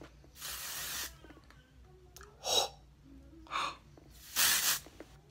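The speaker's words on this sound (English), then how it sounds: "So it's Away hair care, texturizing hairspray." Several short hissing bursts of texturizing hairspray sprayed from an aerosol can, each lasting about half a second to a second, separated by brief pauses in a quiet room.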